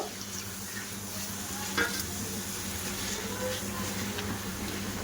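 Milk poured into melted, caramelized sugar in a pan for caramel bhapa pitha, then stirred, giving a soft steady sizzle and bubbling under faint scraping, fairly quiet and continuous, with no voices.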